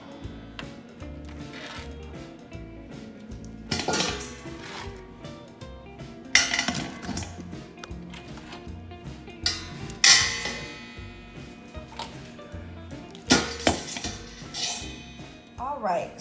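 Browned meat clatters into a metal stock pot with several loud clanks and clinks spread across the stretch, between quieter kitchen handling noises and no talk.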